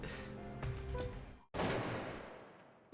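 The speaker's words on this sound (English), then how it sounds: "Was that a gunshot?" A gunshot in the Wii surgery game Trauma Center: New Blood bursts out abruptly after a stretch of game music and tones, followed by a long, noisy decaying rumble and a sharp hit at the very end.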